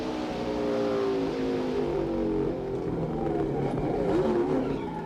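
A 1999 NASCAR race car, Mark Martin's, roars at full throttle from onboard at New Hampshire, the engine droning loud and continuous with shifting pitch and a little tire noise.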